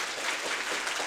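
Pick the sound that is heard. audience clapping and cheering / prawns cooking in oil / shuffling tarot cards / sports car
audience clapping and cheering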